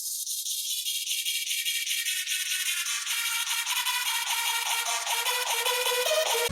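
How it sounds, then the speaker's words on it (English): A bright melody of repeated synth notes starts thin and tinny, with the low end gradually opening up as a filter sweeps down over several seconds. "I also animated an EQ so it sounds like this in the beginning."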